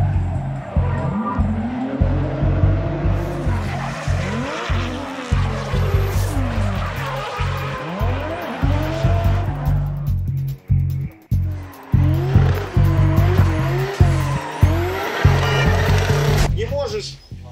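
A drift car slides around a track, engine revving hard and tires squealing through repeated skids, loud and close, with someone talking over parts of it.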